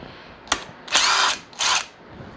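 A cordless driver with a T27 Torx bit loosens a screw on a Stihl string trimmer: a short click, then two whirring bursts of about half a second each, close and loud, with no talk.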